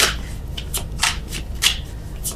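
Tarot cards being shuffled by hand, a rapid series of crisp riffling slaps and flicks in uneven bursts, close and clear, with no talking.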